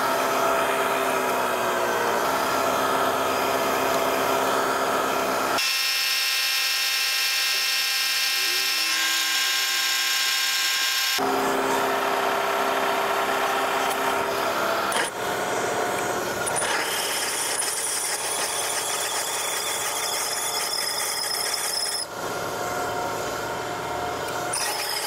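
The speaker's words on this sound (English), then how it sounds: "I'll start at quarter and then drill them out to half inch." A drill whines loudly and continuously, its pitch shifting as it bites through metal, drilling holes at a quarter inch then opening them to half inch, with several distinct phases of cutting and a brief high-pitched section.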